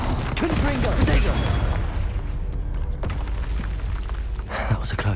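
Confringo spell blasts in Hogwarts Legacy burst in loud booms amid hectic combat noise, close and repeated, while a player shouts over the fighting.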